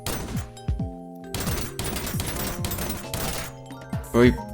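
Gunfire from a burst-fire weapon in a video game, with short bursts of three rapid shots repeating over and over, loud and close, and a brief tonal effect near the end.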